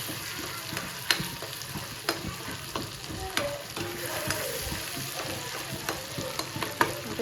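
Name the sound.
goat brain frying in a pan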